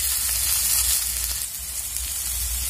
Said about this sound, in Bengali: এভাবে হয়ে যাক, চার থেকে পাঁচ মিনিট ভাজা